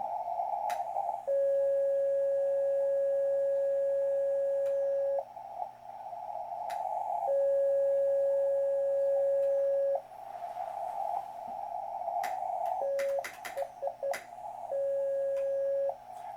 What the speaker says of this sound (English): It is really tough to sense CW with a side tone that's a second or so delayed.